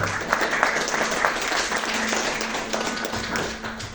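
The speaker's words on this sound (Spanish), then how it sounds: "Aplausos, por favor." A concert audience applauds steadily, many hands clapping in a dense patter that carries on evenly and tapers slightly at the close.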